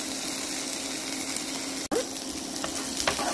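Onions sautéing in a pan give a steady, fairly loud sizzle with a brief dropout partway through and a few faint clinks afterwards.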